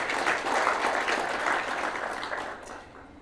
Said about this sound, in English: Can we give them a clap for the work they've done?